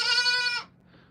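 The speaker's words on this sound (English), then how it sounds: "The goat's showing dominance." A single loud goat bleat, a bright, nasal cry lasting just over half a second, fades into quiet background noise outdoors in cold, rainy weather.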